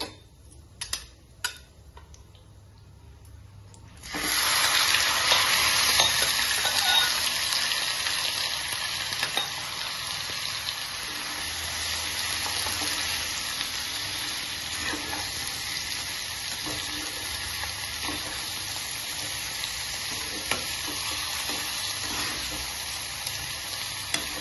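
Marinated chicken drops into hot oil with whole garam masala spices and bay leaf for chicken rezala; after a few light clicks, a loud sizzle erupts and holds steady, with faint stirring ticks.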